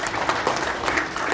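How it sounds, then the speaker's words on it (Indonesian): Applause for regional party chairs at an Indonesian political gathering: a steady wash of many hands clapping, moderately loud and continuous through the short stretch, with no speech over it. "Tepuk tangan untuk para ketua DPD"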